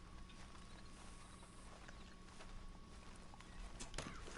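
Horse hooves walk at a steady, moderate clip-clop in the Red Dead Redemption 2 video game, faint against a continuous bed of ambient outdoor game noise with a few sharper knocks near the end.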